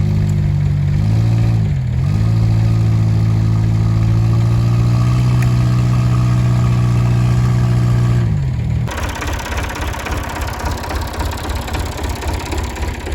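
A Subaru engine labours under heavy load while pulling a rusty, stuck Massey Ferguson bush hog mower, a loud steady drone with pitch dips that cuts off abruptly partway through, leaving rougher lower rumbling.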